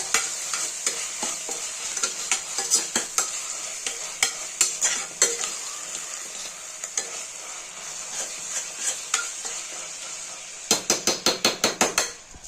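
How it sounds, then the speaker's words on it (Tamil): A spoon or spatula scrapes and knocks against a pan while onions, green chillies and coriander are stirred for Chettinad chicken biryani, giving close, irregular metallic clinks over a soft sizzle, ending in a quick burst of rapid taps. "நல்லா கிண்டி விடுங்க."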